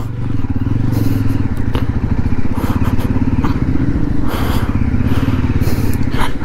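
Loud, close engine drone from a road motorcycle, not built for off-road use, bumping along a rough track through coffee estates and forest toward Kabbe Hills, with intermittent rattles and knocks from the jolting ride.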